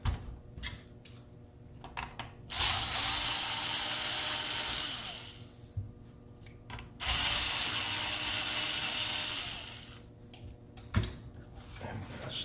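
Screws being removed from an Asus laptop during an SSD upgrade, heard as close, dry ratcheting clicks in repeated runs with short pauses between turns, under a little talk.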